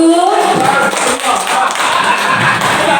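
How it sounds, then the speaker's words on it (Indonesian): An audience at a teacher training session claps in a dense, steady patter close by, with a brief voice at the very start and a slight dip midway before the applause carries on. "tepuk tangan untuk kita semua Bapak Ibu"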